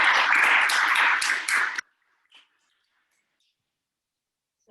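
Dense audience applause at a poetry open mic, steady clapping from a small crowd that stops abruptly, leaving near silence with a faint knock.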